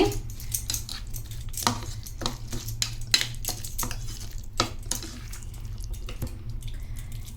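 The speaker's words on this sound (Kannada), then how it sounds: "ಇದನ್ನ ಚೆನ್ನಾಗಿ ಮಿಕ್ಸ್ ಮಾಡ್ಕೊಳ್ಬೇಕು." Masala and curd being stirred together for an onion gojju, a spoon scraping and clinking steadily against the bowl in quick, irregular strokes, close and clear with no talking.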